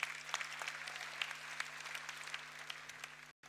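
Faint, distant applause from an audience at a leadership congress, light scattered claps over a low electrical hum, cutting off abruptly near the end.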